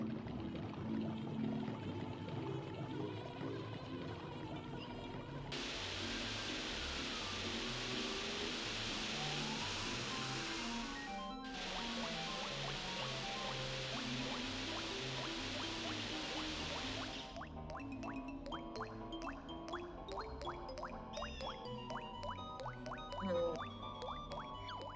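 Water filling a pool in Banjo-Tooie, a long, steady rushing pour with a cartoonish, game-like quality, running continuously alongside background music.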